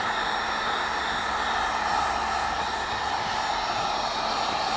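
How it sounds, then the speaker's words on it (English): Steady, continuous roar of a heat gun blowing hot air onto a print mat, loud and close, an unbroken broadband whoosh with no talk. "I got my heat gun here, and I want to apply the heat to it."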